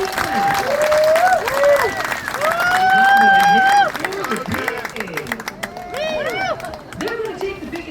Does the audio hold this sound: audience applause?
yes